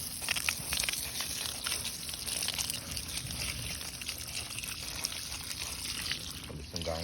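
Garnet-bearing rocks rinsed in water outdoors at a North Carolina garnet mine, with steady trickling, pouring and gentle sloshing close by for several seconds and a faint voice at the end.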